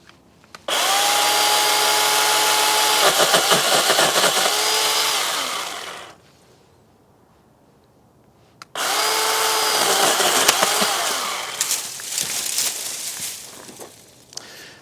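Litheli U20 cordless pole saw cutting a tree branch outdoors: two loud bursts of motor buzz and chain rasp, each about five seconds long, separated by a short quiet pause, with the pitch shifting as the blade bites into the wood.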